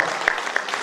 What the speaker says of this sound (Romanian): Încă o dată să o aplaudăm.